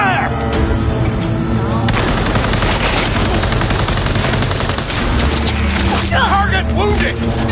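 Gunfire erupts after an order to open fire: dense, loud rapid bursts of automatic shots run for most of the clip, with some voices shouting over the barrage near the end.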